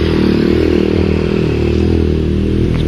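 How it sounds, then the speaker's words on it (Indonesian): A loud motorcycle engine rumbles close by throughout, steady and throaty with some rattling. "itu ada suara motor"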